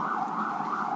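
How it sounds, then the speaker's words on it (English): An emergency vehicle siren wails steadily outside, a continuous rising-and-falling tone holding at moderate loudness for the whole second, with no talking over it. "wait for the siren"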